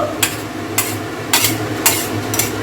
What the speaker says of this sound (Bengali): একটু ডাল দিয়ে সমস্ত মশলা তেল গুলিয়ে নিয়ে নেব